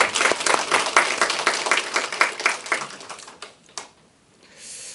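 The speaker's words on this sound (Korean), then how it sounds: "박수 한번 보내드릴까요?" Congregation clapping at a church gathering, a brisk burst of hand claps that thins out and stops after about four seconds, followed by near silence.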